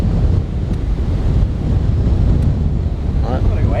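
Strong wind gusting across a golf course at Lake Karrinyup, roaring loudly and continuously into the microphone with heavy buffeting rumble throughout.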